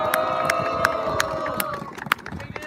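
A rally crowd in Canberra claps and cheers over a steady background hum, with sharp scattered claps and a few whoops under a brief bit of talk.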